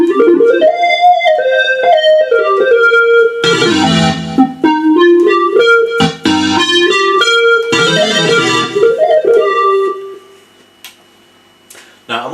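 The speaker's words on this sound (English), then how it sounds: "There are a number of ways of playing chords on these instruments." EWI electronic wind instrument driving a synth patch, playing a run of sustained chords and gliding melodic lines with bright stacked harmonics, loud and close with no talk, then thinning to a few faint notes at the end.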